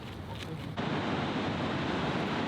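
Rushing water roars as a broad, continuous wash of noise, growing suddenly louder partway through and holding steady, as a waterfall in Peru pounds nearby with waves crashing around it.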